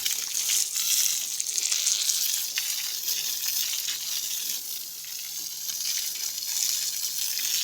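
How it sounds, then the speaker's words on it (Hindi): Water pours steadily to water animals in a village, a continuous loud hiss and gush like a running tap with no breaks. No one speaks. "चलो आ गया पानी"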